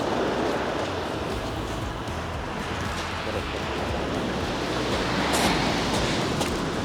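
Rough sea and strong wind on a Ligurian beach, a constant broad roar of surf and gusts filling the whole stretch, with a slight swell in loudness toward the end.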